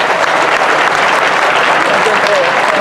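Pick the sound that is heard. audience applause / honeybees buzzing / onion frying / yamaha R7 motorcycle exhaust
audience applause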